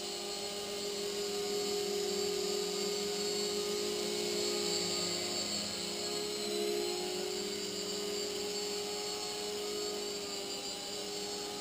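Small propellers on a 6045 RC blimp whir in a steady, high-pitched drone that holds level the whole time, close and continuous with no voices.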